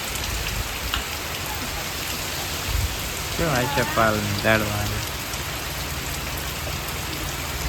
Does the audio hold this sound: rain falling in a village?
yes